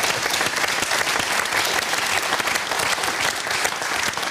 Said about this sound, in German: Also dafür Applaus zu kriegen, staune ich.